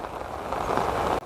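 Steady broadband hiss of rain falling near a waterfall in the Satpura hills of Nandurbar, continuous and fairly loud, cutting off abruptly near the end.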